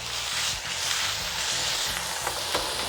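Steak searing on a cast iron pan over a cooker reaching about 800 degrees, a steady loud sizzle and crackle of frying fat running continuously with no voices.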